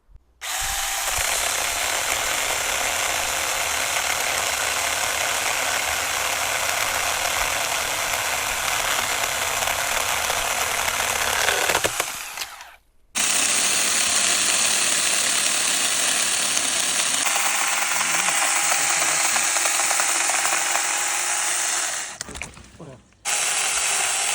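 A cheap $14 AliExpress electric saw cuts through a dry branch, a loud, steady whirring buzz with a ratcheting chain rattle that runs for about twelve seconds, cuts out briefly, then roars again for another ten.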